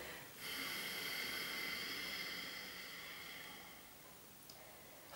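A steady, soft breath pushed out through the nose or mouth during a yoga breathing exercise, a long airy hiss lasting several seconds, close and quiet, with no talking.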